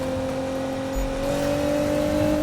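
A Nissan GT-R in the video game Need for Speed accelerates on a mountain road. Its engine drones loud and steady, and the pitch rises slowly as it pulls hard, with no voices over it.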